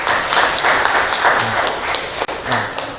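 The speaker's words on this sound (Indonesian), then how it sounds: "Kasih tepuk tangan untuk kelompok 2." Classroom applause for a student group, a few seconds of scattered hand clapping at moderate loudness with some taps and faint voices beneath.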